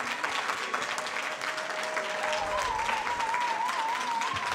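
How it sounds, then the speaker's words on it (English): An audience applauds the winning university debate team at an awards event, a steady wash of clapping filling the room, with a faint whistle-like tone gliding through the middle. "A round of applause for this amazing team."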